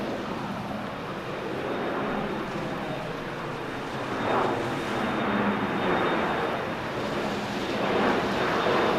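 Airplane landing on runway 6 left at LAX during a storm, a broad rumbling roar that slowly swells toward the end, heard at a distance through steady wind noise.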